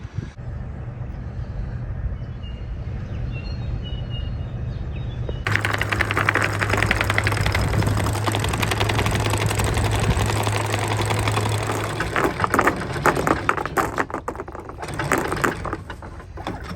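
Anchor winch on a sailboat grinding steadily for the last stretch of chain, a loud continuous mechanical whir and rattle that kicks in partway through over an engine drone, with no voices.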